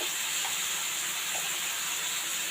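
Tomatoes for thakali thokku frying in a pan, a steady loud hiss and sizzle running unbroken throughout with no voices.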